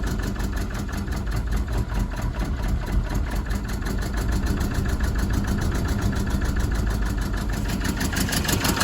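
A Toyota Dyna truck engine with a fuel system leak runs steadily at a rough, fast idle, with the throttle pressed. It is a continuous, near and fairly loud mechanical drone that holds evenly throughout.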